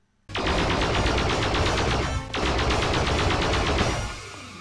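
Buzz Lightyear's powered-up laser firing in the Toy Story 2 video game, a dense, loud, continuous crackling burst that runs for about four seconds with a brief dip midway, then trails off.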